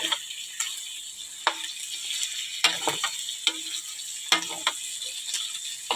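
Pork adobo fries in oil while a utensil stirs it, with a steady sizzle and crisp scraping knocks at irregular intervals. The sounds are close and there is no talking.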